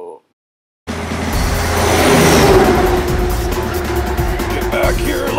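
Toy garbage truck engine in a cartoon parody revs up loudly and steadily after a brief silence, rising to a sustained roar.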